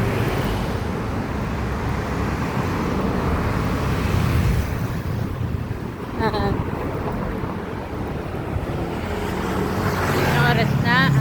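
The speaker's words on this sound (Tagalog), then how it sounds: "medyo madami po yung sasakyan ngayon" Busy car traffic rolls along Aurora Boulevard, a continuous nearby roar of engines and tires with wind buffeting the microphone, passing vehicles swelling and fading, and a person talking over it.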